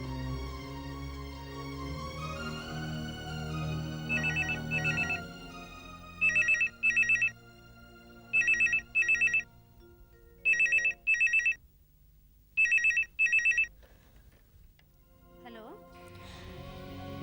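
A telephone rings in repeated double bursts, steady and rhythmic, after a person speaks and music plays softly beneath.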